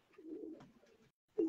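A pure-bred pigeon gives a soft, low, brief coo, followed by a short pause and then a sharper, louder cooing note at the very end.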